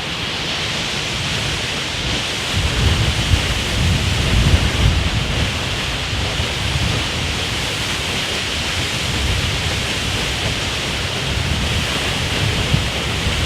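A waterfall in Mpumalanga pounds down with great force, making a steady, dense roar that fills the whole stretch close by. A few low surges and some wind buffeting on the microphone occur, with no talking.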